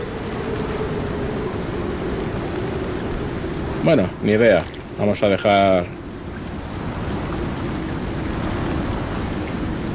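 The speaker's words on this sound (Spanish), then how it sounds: "Viene tormenta otra vez." Steady rain pours throughout a storm in the survival game Icarus, a dense hiss with low rumble, while a voice speaks briefly over it midway.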